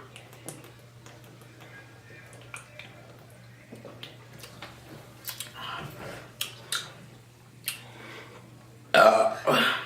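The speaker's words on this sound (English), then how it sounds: "You're not supposed to burp." A burp during a no-burping challenge. A loud, rough belch erupts near the end, after a stretch of quiet clicks and small mouth sounds.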